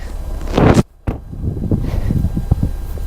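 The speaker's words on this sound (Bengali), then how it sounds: "বাইরে কিন্তু বিভৎস লেভেলের হাওয়া আছে এখন" Strong wind blows outdoors on the Arctic Ocean coast at Teriberka, Russia, roaring and buffeting the microphone in loud rumbling gusts, cut by one brief near-silent gap before the rushing noise resumes.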